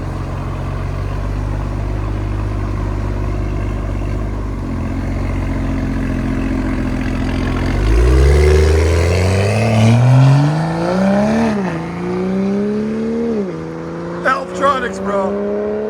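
BMW M340i 3.0L with a full Valvetronic cat-back exhaust, valves open: a steady idle burble builds into loud rising revs with crackles as the throttle is blipped, close by, with voices over the top.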